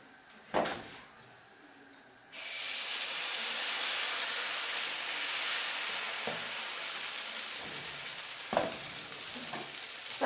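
Mkhanfar batter hits a hot oiled pan after a quiet start with a clatter, then settles into a steady, loud broadband sizzle that continues with a few small knocks of a utensil.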